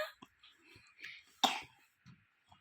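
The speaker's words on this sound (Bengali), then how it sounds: "দেখছো ভাইয়া কাশছে।" A child coughs several times in short, scattered bursts, one louder harsh cough standing out near the middle, fairly close with quiet gaps between.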